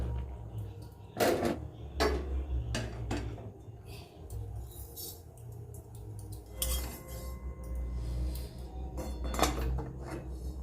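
A pot of boiled peas and potatoes lifted off a stove, with metallic clanks and clinks of the pan and utensils at irregular intervals over a low steady background hum.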